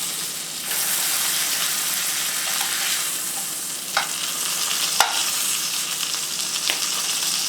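Steak fat edge searing in a hot pan, a steady loud sizzle throughout with a few soft taps and clicks of the pan or utensil.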